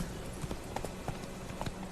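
Horse hooves clip-clop in The Witcher 3 as Geralt's mount moves along, a few soft, irregular steps over a steady background hum of game ambience.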